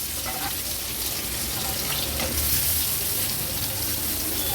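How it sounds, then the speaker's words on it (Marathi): Stuffed bitter gourd sizzles and crackles steadily in hot oil in a pan on a gas stove, a close, continuous frying hiss with no talk. "आणि ही कारली पलटून घेते"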